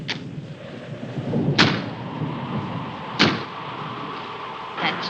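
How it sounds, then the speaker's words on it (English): A door banged repeatedly by the wind against an old house, three sharp knocks roughly every second and a half over a steady windy rumble, with faint room noise between the bangs. "That's just the wind banging a door."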